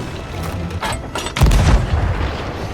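Cannon fire in the Sea of Thieves naval battle game, with lighter booms early on and then a loud, deep blast about midway that rumbles on and fades over the last second.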